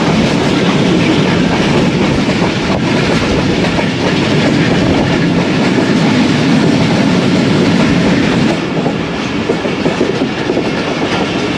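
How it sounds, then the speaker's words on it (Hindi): Inside the Allama Iqbal Express, hauled by a Blue Tiger diesel locomotive of Pakistan Railways, a loud, continuous rolling roar with rhythmic clatter of wheels over rail joints fills the whole stretch. "दोस्तों ट्रेन अभी हमारी पहुंच चुकी है रायगढ़ शहर में"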